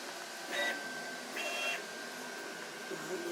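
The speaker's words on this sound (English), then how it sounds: "Now the blower has to be powerful for the speed of the printing." Sovol SV08 3D printer running at speed with its powerful cooling blower, a steady whirring hum with brief higher electronic tones and motor whines, under occasional talk.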